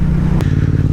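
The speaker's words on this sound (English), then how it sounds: "I've never had this loud exhaust before" Yamaha XSR700 motorcycle running a loud Akrapovic dual exhaust with the baffles removed, giving a steady, deep, rumbling engine drone throughout with a brief sharp click partway through, heard close and without revving.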